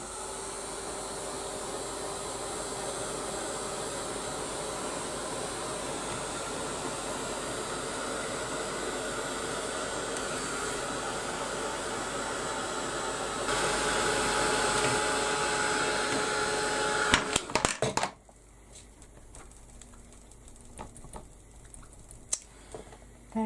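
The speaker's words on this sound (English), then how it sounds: "with my heat gun" A heat gun blows hot air over a wet watercolour journal page, a steady close whooshing hum that intensifies briefly, then cuts off abruptly with a few clunks, leaving a quiet room.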